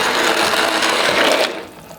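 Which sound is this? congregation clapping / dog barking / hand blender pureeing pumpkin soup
hand blender pureeing pumpkin soup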